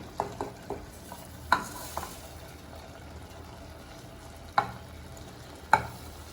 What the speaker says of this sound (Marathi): आता आपण त्यामध्ये तांदूळ ॲड करून घेऊया.